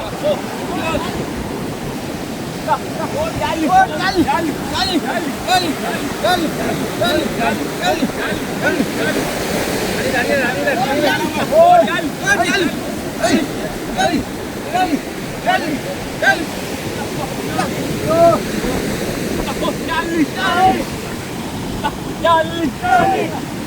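Sea waves surge and crash repeatedly on the shore at Mullaitivu where fishing boats are being hauled in, a loud rolling wash with wind buffeting the microphone and voices talking in the background.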